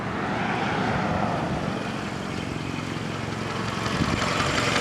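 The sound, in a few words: damaged car engine idling, possible collapsed lifter or valve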